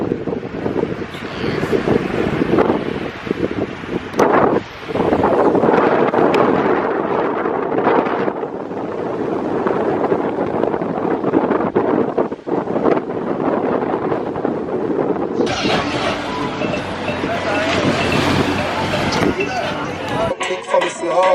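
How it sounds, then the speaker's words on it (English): Strong gusting wind buffets the microphone with a loud roar in Jamaica, rough water churning underneath, and a voice speaks through the noise. "It's so windy here, and the water is getting rough"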